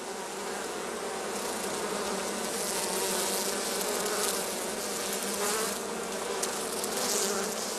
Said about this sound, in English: the bees are now busily collecting pollen and water to help build up the brood nest